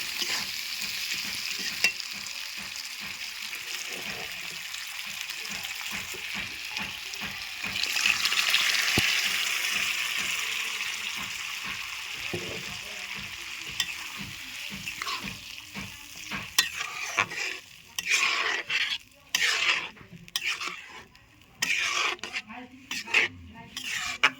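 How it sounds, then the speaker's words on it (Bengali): Goat liver and chana dal are stirred and fried in oil in a pan. A steady sizzle swells midway, and repeated scraping strokes of a spatula against the pan grow choppier and more rhythmic toward the end. "কলিজাগুলো কষানো হয়ে গেছে তেলটাও কেমন দেখো ছেড়ে দিয়েছে খুব সুন্দর কষানো হয়ে গেছে"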